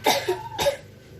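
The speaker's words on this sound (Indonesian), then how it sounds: "Lalu suruh anak untuk batuk." Two quick, harsh coughs in succession from a child bringing up sputum during postural drainage, close and fairly loud, with no talking.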